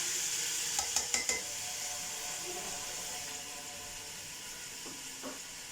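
Cubed tomatoes go into a hot pot of Punjabi yakhni pulao. A soft, steady sizzle and steam hiss carry throughout, with a few quick clinks of a spoon against metal near the start and another light clank near the end.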